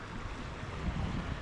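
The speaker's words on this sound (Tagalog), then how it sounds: "So yun, ikot-ikot pa yung tubig oh." Swirling floodwater in a river swollen by flooding, a steady low rushing and churning wash at moderate distance with no talking.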